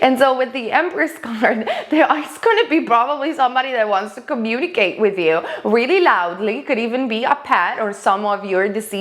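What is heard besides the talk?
No everyday noises stand out.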